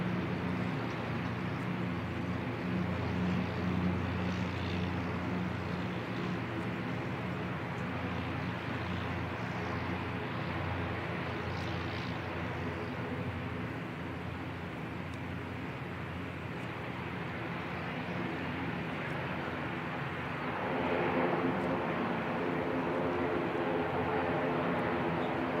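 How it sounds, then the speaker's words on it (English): An ATR turboprop airliner taxis out at Christchurch Airport, its steady engine drone and propeller hum heard at a distance, broad and continuous throughout with light wind noise. "Another ATR heading out."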